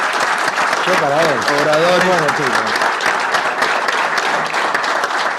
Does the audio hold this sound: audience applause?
yes